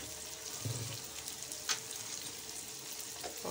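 Green chillies frying in oil in a pan for egg gravy, a steady, even sizzle that runs throughout with a couple of faint clinks, and no talking.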